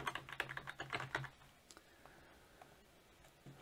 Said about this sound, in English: I'll click OK and then re-enter the password.